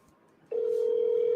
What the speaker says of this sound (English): Trying to call Deborah